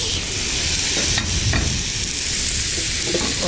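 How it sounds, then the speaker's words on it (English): Loud, steady sizzling of potatoes frying in butter on a hot Camp Chef FTG600 griddle, a dense hiss with occasional light scrapes, close up. "You hear that sizzle?"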